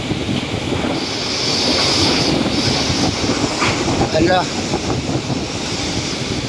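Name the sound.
strong typhoon wind blowing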